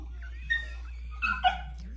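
Newborn puppies give a few faint, high, thin whimpers and squeaks, three short cries spread over two seconds against a quiet room hum.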